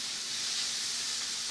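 Leek quiche filling sautéing in a pan, a steady, even hiss of frying that holds without a break for a moment and stays close and moderately loud.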